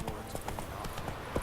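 Horse hooves clip-clopping at a trot in the video game The Witcher 3: Wild Hunt, a quick run of soft, evenly spaced hoof knocks heard faintly under the game's background sound.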